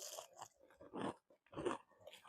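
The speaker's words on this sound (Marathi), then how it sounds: "आम्ही कांदा भजी खातोय" Onion bhaji, fried fritters, being bitten and chewed outdoors at Sinhagad fort, with a few close crunchy bursts of biting and chewing separated by short pauses.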